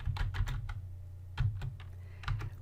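Quiet taps on a computer keyboard while entering numbers, a few quick keystroke bursts separated by short pauses, close and soft.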